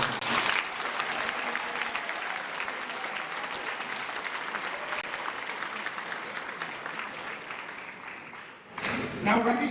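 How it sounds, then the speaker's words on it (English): Applause from a school assembly crowd for talented students fills most of the stretch, steady and broad, then fades out near the end as a voice briefly begins. "One big round of applause to all of these talented."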